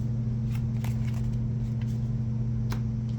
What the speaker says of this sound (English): And we'll shuffle these hit cards a little bit.